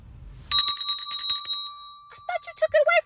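A small handheld bell rings in a quick run of bright, rapid strikes for about a second, then stops; short bursts of a voice follow close by.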